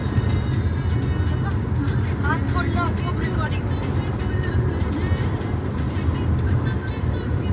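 A car passes on a highway, a steady loud road roar throughout, with a person speaking partway through.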